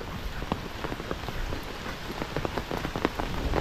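Steady heavy rain pattering on a surface among closely packed houses in San Fernando, Sorsogon, Philippines, with dense close drops and occasional sharper splashes throughout.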